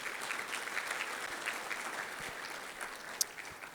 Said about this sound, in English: I just want one more round of applause for the incredible staff of CAIR Oklahoma